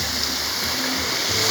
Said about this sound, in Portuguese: Viemos visitar a cachoeira aqui de São Benedito,